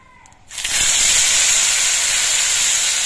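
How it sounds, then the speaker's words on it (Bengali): Onion paste drops into a hot pan where cumin and bay leaves have been frying, setting off a sudden loud hiss that holds steady and strong after a brief quiet start. "জিরে আর তেজপাতাটা বেশ ভালো মতো ভাজা হয়ে যাওয়ার পর এর মধ্যে একটা পেঁয়াজের পেস্ট আমি দিচ্ছি"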